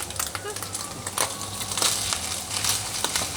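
Cooked pork and ingredients for sisig are smashed and crushed in a pan or bowl, a close, steady crunching and squashing with crackly bursts, with a voice speaking over it.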